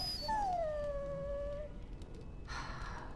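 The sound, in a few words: dog whimpering and howling in a video game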